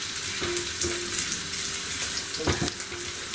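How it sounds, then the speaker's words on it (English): Chopped ginger and garlic sizzle in a hot pan, a steady soft frying hiss with a few light stirring knocks, close and alone. "saute them a little,"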